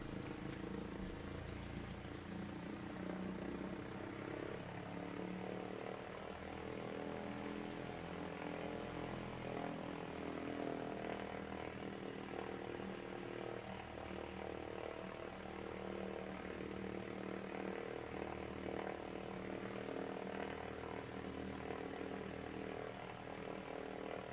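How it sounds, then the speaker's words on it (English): A simulated Cessna 172 sits at idle around 1000 RPM, a steady low propeller-engine drone with a droning hum that holds evenly throughout, with no talking. "Gotta love the sound the Cessna makes when it's sitting at idle, or 1000 RPM."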